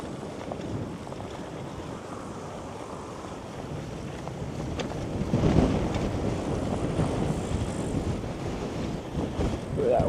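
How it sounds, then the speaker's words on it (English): Wind buffeting a microphone while cycling on a bike tour through rural Latvia, a constant low roaring rumble that swells and gusts harder midway, with no talking. "Ooh, that wind is not helping."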